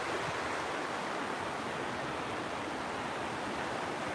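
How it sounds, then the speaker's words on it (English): A natural river by the Ohio canal rushes steadily with broadband water noise, constant and fairly loud for the whole stretch, no voices over it. "that's just a natural river flowing right there"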